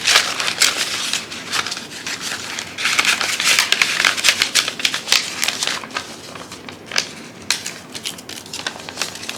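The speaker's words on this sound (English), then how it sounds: "We're gonna stuff this envelope." Paper cash bills pushed into a savings envelope, a dense run of close crinkling, rustling and shuffling paper sounds in quick bursts, with no talking.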